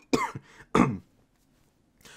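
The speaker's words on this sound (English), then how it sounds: "I got a cough." Two sharp, close coughs a half-second apart, followed by quiet and a faint third rasp at the end.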